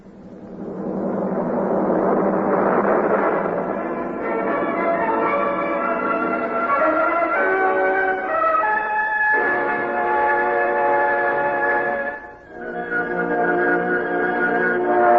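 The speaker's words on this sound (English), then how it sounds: "Well, listen to all those bells." Ships' bells ring through fog in a radio drama, several overlapping tolling bells sounding together, sustained and fairly loud with a brief dip before they carry on, no voices.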